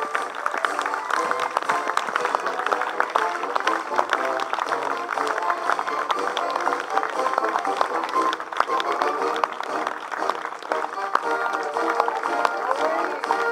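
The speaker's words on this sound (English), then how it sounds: "Give them a round of applause." A Tea Party rally crowd in Fairhope claps for veterans called forward, a dense, steady applause running unbroken throughout at a fairly loud level, with a busy murmur of voices mixed in.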